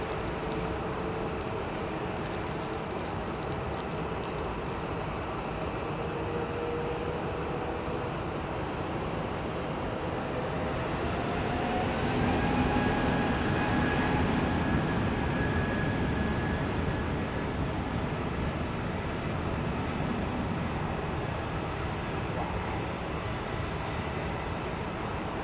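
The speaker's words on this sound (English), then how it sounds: "That rumble is that aircraft." An aircraft at London Heathrow Airport gives off a continuous deep rumble with a broad roar and a faint rising whine, steady and fairly loud throughout, with no talking over it.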